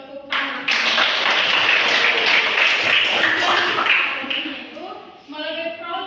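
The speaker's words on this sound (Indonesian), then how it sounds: "Tepuk tangan." Classroom group claps together after a student presentation, a loud, dense burst of applause that swells quickly, holds for several seconds and fades as a voice begins speaking over the tail.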